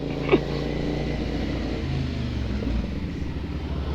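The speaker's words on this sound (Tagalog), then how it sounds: "Sakit ng tunog ng ano ni Ken, ng motor ni Ken. Naka-conical na SC Project." A Veloce 500 motorcycle fitted with an SC Project conical exhaust idles nearby at night; a deep, steady low rumble with a slight swell in the middle, no talk.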